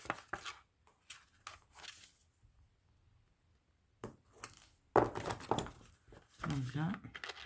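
Paper is cut straight for a scrapbook photo album, heard as short bursts of cutting scrunch separated by pauses, with a voice talking at times.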